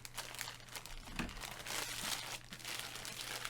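Packing tape is cut and peeled off a mailed mystery-box package, giving close, busy crinkling and scraping tears of plastic tape and cardboard that swell and fade over a few seconds, with no voices.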